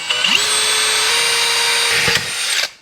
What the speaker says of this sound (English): All right, so I got a hole drilled there